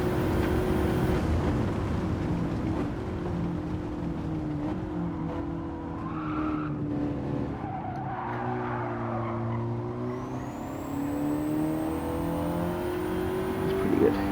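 A Ford Focus RS lapping a track, its engine droning steadily with rising and falling revs, tire squeal and skidding mixed in, continuous and fairly close for the whole stretch.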